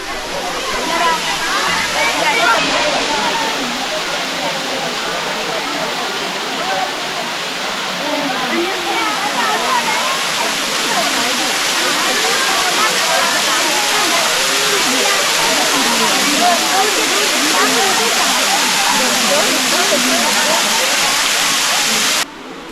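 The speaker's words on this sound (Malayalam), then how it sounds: "അങ്ങനെ നമ്മൾ തുഷാരഗിരി വാട്ടർഫാൾസിൻ്റെ അടുത്തെത്തി." Thusharagiri waterfall in Kodenchery, Kozhikode, running with low water, gives a loud, steady broadband rush of falling water that holds unbroken throughout, with no clear voices above it.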